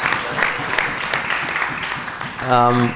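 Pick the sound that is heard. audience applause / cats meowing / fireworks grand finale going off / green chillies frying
audience applause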